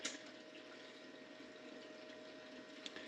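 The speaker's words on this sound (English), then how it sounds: "I got the Miller table running at my most lowest kind of water setting" A Miller table for gold prospecting running at its lowest water setting, giving a steady, even wash of flowing water close by with no voices.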